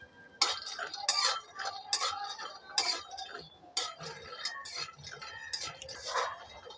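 Peanuts being dry-fried in a pan for a vegetarian potato and pointed gourd curry, a metal spatula scraping and clinking against the pan in short irregular bursts, close and fairly quiet.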